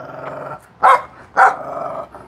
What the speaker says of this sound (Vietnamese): Ui con chó này.